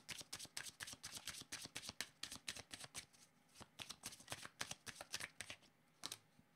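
Oracle cards are shuffled by hand in a quick run of crisp riffling bursts with brief pauses between them, close and quiet, without speech.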